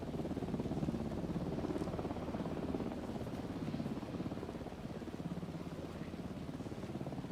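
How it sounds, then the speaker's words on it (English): Helicopter flying at a distance in the video game Alan Wake 2, a continuous rotor drone with rhythmic chopping, moderately quiet and unbroken throughout. "I hear a helicopter."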